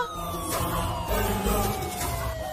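An ambulance siren wails with a steady, slowly falling tone over traffic rumble, loud and fairly close, with no talking.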